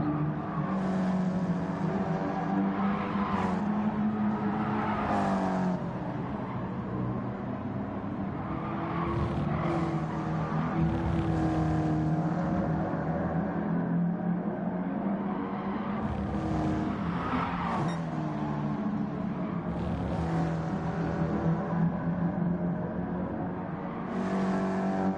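Gran Turismo Sport race with a Ferrari 250 GTO chasing another car, steady loud engine drone with rising and falling revs, gear shifts and occasional tire squeal throughout.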